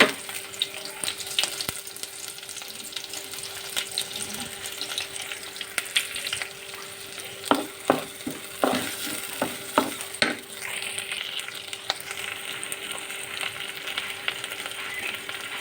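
Onion, green chilli and cashews frying in a pan for semiya pulav, a low steady sizzle punctuated by a run of sharp spatula knocks and scrapes midway, close and with no voices.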